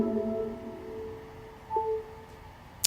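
A short chime for wireless charging on an iPhone 8 running iOS 11: a few soft, sustained electronic tones, then a brief rising blip and a sharp click at the end, alone with no talking.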